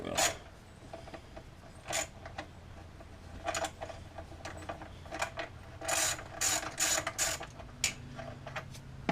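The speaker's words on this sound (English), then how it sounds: "Alright, so now I'm going to fully remove the rack bolts, the 13mm bolts." A ratchet works loose the 13mm steering rack bolts on a Volkswagen MK4 Golf, giving quick bursts of fine clicking that come and go in short runs, close and fairly quiet, with no talking.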